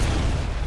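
A brief, loud, low boom from an RPG rocket explosion in Fortnite, one dense rumbling burst under a second long.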